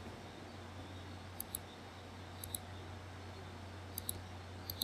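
Computer mouse clicking during software work: a handful of faint, sharp clicks, some in quick pairs, spaced irregularly over a low steady electrical hum.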